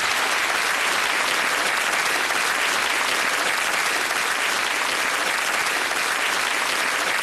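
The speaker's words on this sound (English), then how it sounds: "I think a round of applause for these guys" Applause from a studio audience at a TV game show, a dense, loud, continuous wash of clapping that holds steady without pause throughout.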